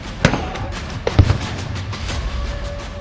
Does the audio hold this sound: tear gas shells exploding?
yes